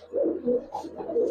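Giribaz and coloured pigeons coo close by in soft, throaty, repeated rolls, with no voices over them.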